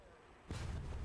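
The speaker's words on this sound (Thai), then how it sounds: "Ой-ой-ой, попал, но аж взорвался сам. Слишком низко сбросил." In War Thunder, a bomb dropped from too low an altitude explodes with a sudden deep, loud boom midway through, after a quieter stretch of engine drone, then a rumbling roar.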